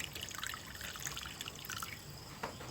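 Water pours into a pot of chicken and pork adobo, a light trickling and dripping splash that continues unevenly for a few seconds.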